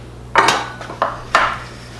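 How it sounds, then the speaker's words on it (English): A knife scrapes and clinks against a plate while spicy beberoq steak is cut, three quick sharp scraping strokes close up, alone. "Okay, we're gonna cut this steak."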